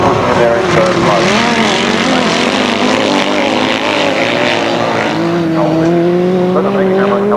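Several 1000cc sidecar engines roar together in a grasstrack race, loud and continuous with rising and falling revs as machines pass close by.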